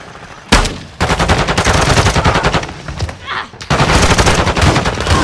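Gunfire in Call of Duty: Modern Warfare II during a Hardpoint match on the Embassy map: loud, dense bursts of rapid automatic shots, one short burst then long sustained volleys with a brief lull, with voices shouting over them.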